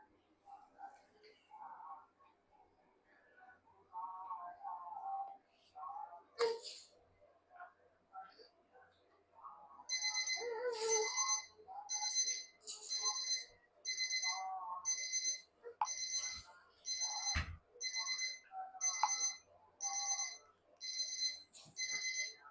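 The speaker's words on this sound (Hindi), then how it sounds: "15 सेकंड का टाइमर आपके सामने" A 15-second countdown timer effect on a maths quiz question: a steady run of bright, evenly spaced electronic beeps, each with a short pause, loud and alone for the second half, after quieter indistinct sounds.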